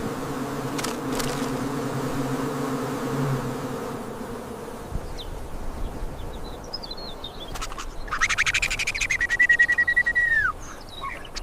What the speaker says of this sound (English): Suspended beneath a nearby branch hangs a massive, aggressive earth wasp nest.